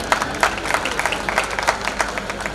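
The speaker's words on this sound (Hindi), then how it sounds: "तालियां बजा दीजिए" Audience applause at a Hindi comic poetry gathering, a broad crowd clapping steadily with sharper individual claps standing out over a diffuse hall ambience.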